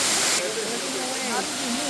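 Steady broadband roar of a crowded waterfall in Bali, Indonesia, close and loud, with people talking over the rushing water.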